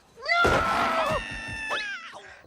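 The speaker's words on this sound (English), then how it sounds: "I just can't help but to hear Wembley when I hear that scream." From the Muppets From Space film, a character lets out a loud, shrill, sustained scream with bending pitch, lasting about a second and trailing into fainter wavering cries.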